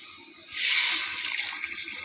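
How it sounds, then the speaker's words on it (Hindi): Water poured into a cooking pot holding spiced mutton kofta curry masala, a steady splashing gush that starts abruptly and continues close by, with no talking. "अब हम इसमें शामिल कर देंगे पानी"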